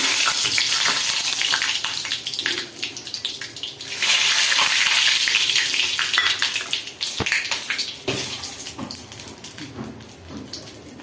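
Whole spices fry in about two spoonfuls of hot oil for chicken biryani, giving a loud close sizzle that swells and fades in waves over several seconds, with occasional clinks from the pan.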